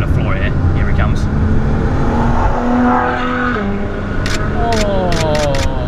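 A matte grey Ferrari F12tdf closes in and roars past under hard acceleration, its engine note rising loudly over road noise while people talk inside the overtaken car.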